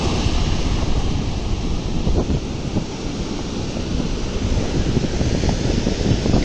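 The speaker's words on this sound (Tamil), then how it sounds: "கடல் அலைகள் எல்லாம் பார்க்க நல்ல வடிவாக இருக்குது, சந்தோஷமாக இருக்குது." Rough sea waves wash onto the golden beach at Thalaiyadi in Vadamarachchi East, giving a continuous roaring surf with slow swells and wind buffeting the microphone, and no one speaks.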